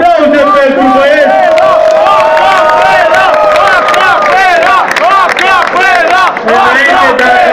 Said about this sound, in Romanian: aplauze pentru băieți!